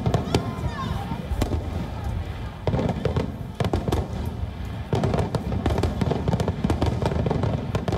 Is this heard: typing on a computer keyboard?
no